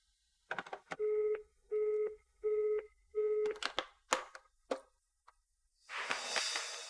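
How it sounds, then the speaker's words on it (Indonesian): Telephone busy tone after a dropped long-distance call: four evenly spaced, steady beeps from the handset, mixed with clicks and handling noise, followed by a burst of rustling. "Tadi kata telepon dari Rangga. Putus"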